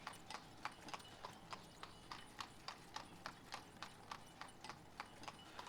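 Horse hooves clip-clopping in the Ostriv village-building game, an even trot of about three hoofbeats per second, faint and steady throughout.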